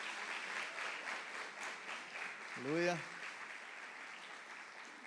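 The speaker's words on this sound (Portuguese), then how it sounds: "queria que você desse uma salva de palmas ao Senhor pela vida dele" Congregation applauding during a church celebration service: a full, continuous wash of clapping, with one voice briefly calling out over it.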